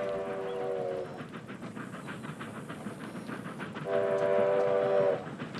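A train approaches on railway tracks in an animated parody of Stand By Me, its horn blaring in two long, loud blasts over a rumbling, clattering rush of wheels and cars that grows closer.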